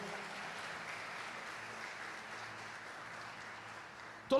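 A church congregation at a Portuguese-language family service applauds, giving a faint, steady wash of clapping throughout that ends in a brief louder burst.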